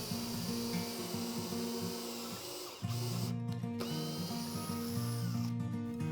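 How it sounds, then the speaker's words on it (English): A power drill bores pocket holes through lumber panels with a pocket hole jig, whirring in steady bursts with brief pauses, close and continuous with no talk. "Using a speed square, I made visible marks to accommodate the pocket hole jig I was using, and then made all of my pocket holes."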